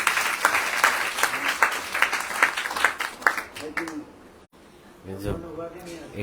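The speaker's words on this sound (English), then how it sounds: "Give a hand, a clap of hands." A crowd at a devotional Vaishnava talk claps hands together for a few seconds, a dense patter of applause that dies away, after which a voice speaks.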